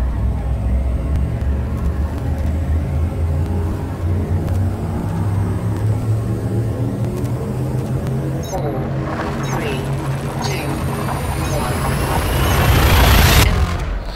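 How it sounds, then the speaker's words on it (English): A spaceship's hyperdrive charges in Elite: Dangerous: a steady, heavy engine rumble swells into a loud, rising whooshing surge near the end, with someone talking over it. "Drive charging, and we'll start bringing the hyperdrive online."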